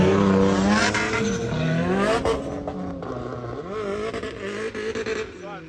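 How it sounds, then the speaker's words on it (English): Drift cars running practice laps on a wet race track, engines roaring and revving continuously at mid distance, with someone talking over the noise throughout. "as you can hear the cars going"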